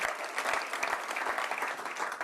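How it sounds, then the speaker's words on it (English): Audience applause at an alumni awards ceremony, a dense steady clapping from a sizable crowd that fills the whole stretch without letting up, with a few sharper individual claps standing out near the front. "Give him a round of applause."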